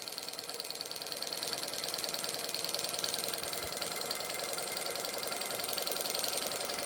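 A small Stirling engine drives a model helicopter with a steady, fast mechanical whir and rapid rattling tick, close and constant with no talking.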